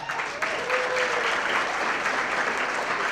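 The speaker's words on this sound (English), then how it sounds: "Let's clap it up for that." A crowd at an athletic awards banquet applauds loudly and steadily, the clapping dense and continuous throughout with no pause.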